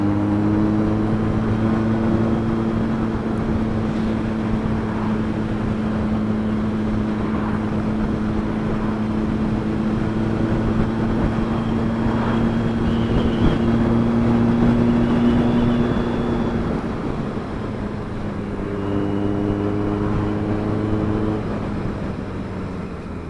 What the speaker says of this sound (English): When you rev it up, when you blip the throttle now